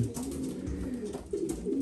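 Pigeons cooing in a breeding loft during pairing season, soft low repeated coos close by against a faint background hum.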